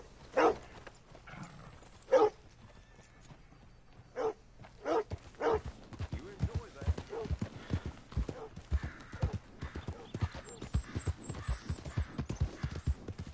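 Horse hooves clip-clopping in Red Dead Redemption 2, a steady quick run of soft beats through the later half, preceded by a few sharp isolated knocks, with quiet game ambience under it.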